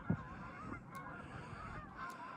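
Faraway Canada geese honking over a low outdoor hum, with repeated calls blending into a steady, faint chorus.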